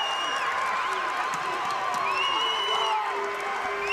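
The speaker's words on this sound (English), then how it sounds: "Crowd loves the effort." Arena crowd at a Montana vs Southern Utah college basketball game cheering and whooping after a hustle play, a sustained loud roar with whistles and shouts over play-by-play commentary.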